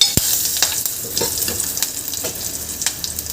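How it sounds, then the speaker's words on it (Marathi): Curry leaves and a little turmeric sizzle in hot tempering oil for spiced buttermilk, with a soft steady hiss broken by sharp clinks of a spoon stirring against the pan. "आता यामध्ये कढीपत्ता घालून घ्यायचा आहे आणि हळद घालून घ्यायची आहे थोडीशी आणि हे छान 1 मिनिट परतून घ्यायचं आहे"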